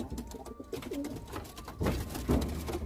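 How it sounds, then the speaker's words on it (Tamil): A baby pigeon coos softly and repeatedly at close range, its low, breathy calls rising and falling without any talk. "நேற்று நல்லா இருந்த குஞ்சு, நேற்று நல்லா இருந்த சிக்கு இன்னைக்கு இப்படி இருக்கு."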